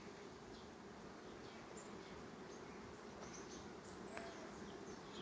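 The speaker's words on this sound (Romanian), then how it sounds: "Iată, avem o altă albinuță." Honeybees buzz around a hive during an abundant nectar flow, a steady, soft, continuous hum with faint higher whines drifting in and out, and no voices.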